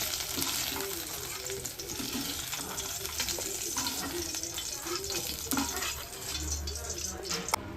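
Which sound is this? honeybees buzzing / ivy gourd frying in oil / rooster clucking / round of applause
ivy gourd frying in oil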